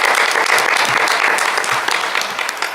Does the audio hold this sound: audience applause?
yes